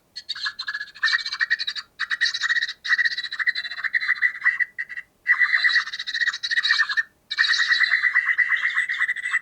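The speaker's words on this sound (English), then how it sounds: "there's our sound, there's songbirds, and there's also a cuckoo in there" Songbirds chirp and trill in rapid bursts with short pauses between phrases, bright and fairly close, a cuckoo calling somewhere among them, with no voices present.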